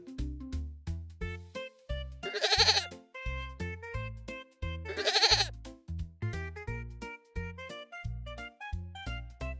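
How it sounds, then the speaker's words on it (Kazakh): A goat bleats twice in a children's song about farm animals, each wavering cry rising loud over a bouncy, steady musical backing. "ешкі,"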